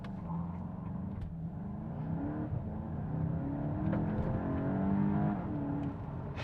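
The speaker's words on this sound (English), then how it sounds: "we pull onto a straight bit of road and we can go ahead and get our car the best start possible" A Volkswagen Golf GTI hot hatch launching hard from a standstill with launch control. The engine note climbs steadily through rising revs, close and continuous, with no talk over it.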